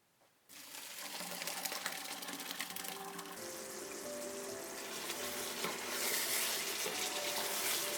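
Water from cooked rice is drained into a sink, a broad rushing splash that starts abruptly and continues loud and even, with no voices.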